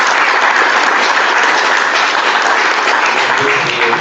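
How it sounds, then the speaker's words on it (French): Audience applause after Eric Vetillard's conference talk, a loud, dense and continuous clapping that fills the whole stretch without a break. "Je crois qu'on peut l'applaudir."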